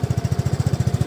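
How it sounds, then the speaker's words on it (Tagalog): A motorcycle exhaust idling up close, a loud, even low putter of rapid regular pulses with no voices over it. "Ito yung tunog ng tambutso"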